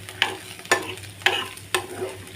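Drumstick and garlic sautéed and stirred in a pan for drumstick chutney: a low sizzle broken by four evenly spaced scraping strokes of the spatula, close and alone.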